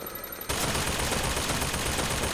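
Enemy gunfire in the video game Bioshock Infinite erupts suddenly into a dense, continuous roar of loud shots that holds steady without pause.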